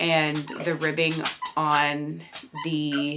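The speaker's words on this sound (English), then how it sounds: "Also, sorry about my dog." A dog whines and squeaks in short bursts close by, mixed in with someone talking about knitting a sweater.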